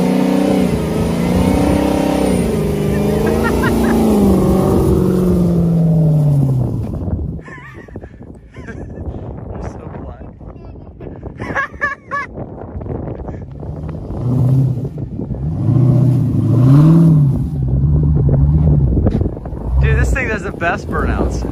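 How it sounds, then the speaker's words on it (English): A Dodge Hellcat SRT on wagon wheels revs hard during a burnout, its loud engine note rising and falling in repeated surges, with wind buffeting and people talking excitedly over it. "You gotta do a rolling burnout"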